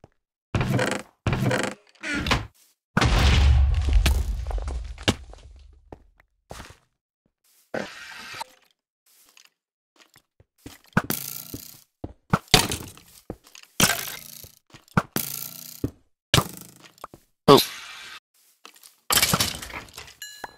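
A single heavy explosive blast goes off in the Polycraft video game, booming loud with a deep low rumble, amid scattered cracks, thuds and clatter before and after.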